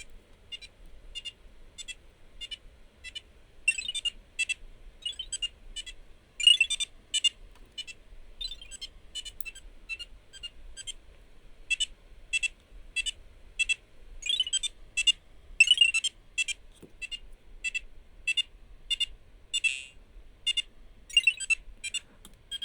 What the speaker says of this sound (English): That noise was the power-up